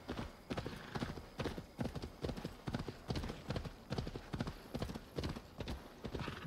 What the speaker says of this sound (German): da ist auch schon mein Pferd